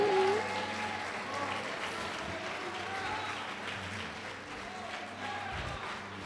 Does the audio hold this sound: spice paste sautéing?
no